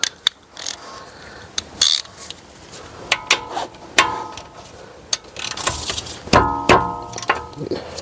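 Ratchet loosening the 21mm caliper carrier bolts on a 2017 Mercedes E220 during a brake disc and pad change, with repeated close clicking strokes and metallic clanks of the tool throughout.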